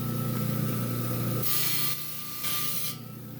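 Trimming a bump off a brown onyx slab for a cabochon, the cutting tool runs with a continuous hum, then two close bursts of harsh grinding hiss as the stone is pressed in, with no talking.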